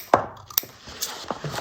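A few separate crisp snips of scissors cutting paper for a card-making project, spaced out and fairly close, with no talking.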